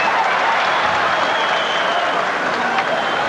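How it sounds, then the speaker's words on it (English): Hockey arena crowd applauding a Senators penalty kill, a dense, steady wash of clapping and cheering filling the space at high volume without pause. "the crowd appreciates the penalty-killing efforts of the Senators"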